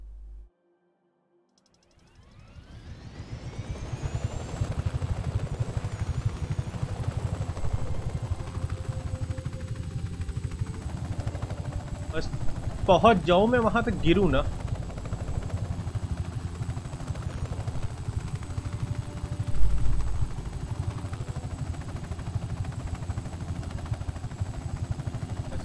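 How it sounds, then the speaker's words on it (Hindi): A helicopter in the video game Just Cause 3 spools up from silence and then drones steadily with a whirring rotor and engine hum, with a brief metallic clatter midway and someone speaking once. "चलो हेलीकॉप्टर से चलते हैं"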